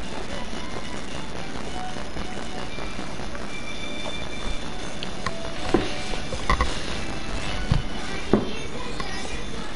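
A train runs in the video game The Crew 2 with a continuous rolling rumble, broken by a few sharp metallic clanks and short squeals of the wheels.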